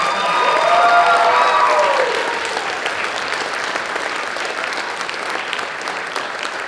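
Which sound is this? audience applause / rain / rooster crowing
audience applause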